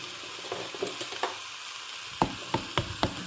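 Food sizzles in a frying pan, a steady crackling hiss close by, broken by several sharp clicks and taps, as of a utensil stirring or knocking the pan.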